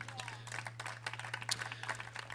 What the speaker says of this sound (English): One more round of applause for our hosts here tonight for having this,